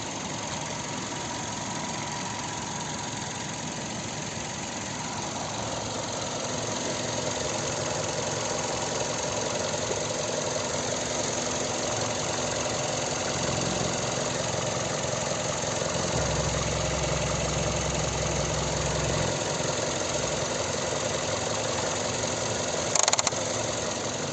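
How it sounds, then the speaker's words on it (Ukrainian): A 2007 Kia Ceed 1.6 petrol engine with manual gearbox idles steadily nearby, a smooth continuous hum with a faint rattle, no voices. "Ось робота двигуна."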